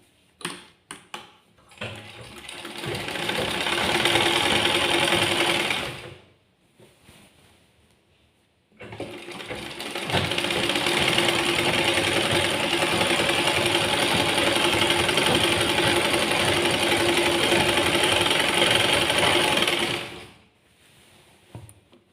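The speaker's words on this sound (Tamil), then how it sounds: "ஸோ இப்போ நம்ம வந்து இதை வந்து ஸ்டிச் பண்ணிக்கலாம்." Sewing machine stitching an old saree into a bed quilt, running in two long steady bursts with a brief pause between them and a few short starts at the beginning, with no talking.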